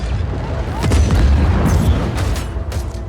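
A train-mounted cannon firing in the Just Cause 4 video game, heavy booming blasts rolling over a continuous low rumble, with sharp cracks and pops layered on top.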